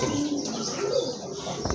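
Soft pigeon coos from a breeding pair of orange chila pigeons, low murmuring calls repeating near and fairly close, with a brief flutter of wings near the end.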